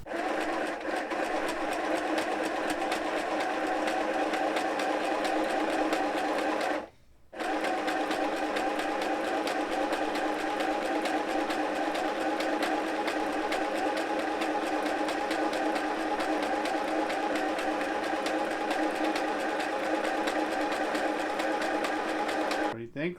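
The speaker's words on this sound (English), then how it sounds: "we're just going to run a stitch down the side" A mini sewing machine runs a stitch down the side of a t-shirt with a continuous steady whir, broken by one brief pause, close and fairly loud throughout.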